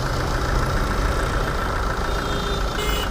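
A Tata Hexa SUV with the Varicor 400 diesel engine idles steadily, a loud, even, close-up mechanical hum and rumble continuing without change or speech.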